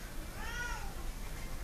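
A Bengal kitten gives a single high, thin meow, rising and then falling, against steady low background noise.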